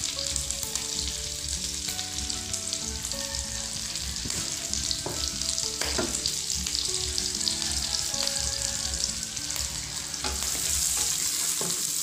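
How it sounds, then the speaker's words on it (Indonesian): Onion and garlic sauté in a hot pan, giving a steady, close sizzle with frequent stirring scrapes and clinks from a utensil throughout, and no voices. "Ini akan tumis sampai harum dan layu"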